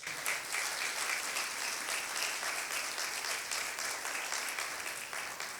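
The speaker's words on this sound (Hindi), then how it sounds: "आइए इस बादशाह के लिए जोरदार तालियां बजा लें।" Congregation at a Palm Sunday church service breaking into loud, sustained applause, a dense steady wash of many hands clapping that holds at full strength throughout with no talk over it.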